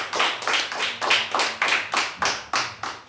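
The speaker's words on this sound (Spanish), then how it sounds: "déle un fuerte aplauso a Cristo" A church congregation claps in rhythm, with sharp, regular beats about three per second, loud and close, with no voices.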